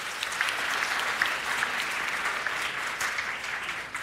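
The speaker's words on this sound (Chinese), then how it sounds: "拍手感谢主" A church congregation claps together to thank the Lord at an anniversary thanksgiving service, a sustained, even wave of applause from many hands, moderately distant.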